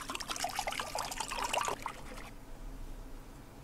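Hot water pours into a mixing bowl in the VR coffee-making game Coffee Quest, a soft trickling stream for under two seconds, then stopping into quiet room tone.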